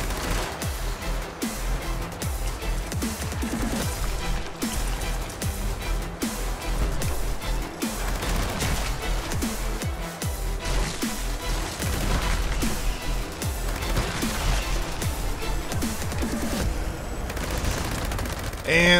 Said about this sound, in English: Now I'm gonna charge up my adrenaline by shooting some enemies real quick